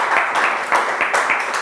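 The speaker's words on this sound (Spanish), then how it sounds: "Le damos un aplauso, por favor" Audience at a keynote lecture applauding the speaker, steady loud clapping from many hands throughout, fairly close and continuous.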